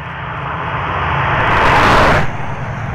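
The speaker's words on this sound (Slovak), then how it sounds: "Nádherný zvuk toho hrubého tatrováckého osmiválce" A classic Czech Tatra car's rough V8 engine roars close by, swelling louder for a moment before easing back to a steady rumble, with no talking.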